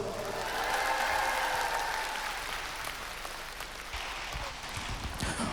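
A concert audience claps hard and steadily, dense and full for over five seconds, swelling slightly and then easing, with no speech on top.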